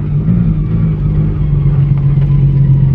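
A car on new wheels drives slowly while a tire rubs against the fender. A steady low rumble runs throughout at fairly high level, and no scraping accent stands out from it.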